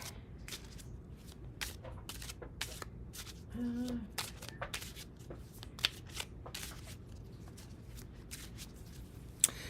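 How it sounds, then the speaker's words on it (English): Tarot cards are shuffled repeatedly by hand, giving a continuous run of crisp riffling flicks and soft slaps at a steady rhythm, close but quiet, with a brief low murmur partway through. "I'll pass this to you to shuffle and cut."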